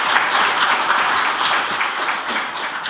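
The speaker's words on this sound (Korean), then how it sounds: "최보윤 의원님께 다시 한번 박수 부탁드립니다" An audience at a Korean policy forum on veterans' compensation applauds a lawmaker, a steady, dense wash of many hands clapping at even strength throughout, with no voices over it.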